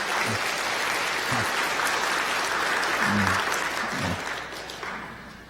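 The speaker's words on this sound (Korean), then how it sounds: "여러분들 건강하게 잘 다녀올 수 있도록 격려의 박수 부탁드리겠습니다" Church congregation applauding during a Sunday worship service, a steady wash of many hands clapping for several seconds, moderately loud and gradually fading toward the end.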